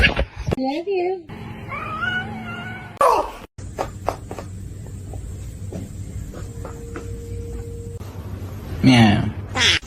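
A cat meows repeatedly, close and loud, with rising and falling cries in several bursts, mixed with human voices talking.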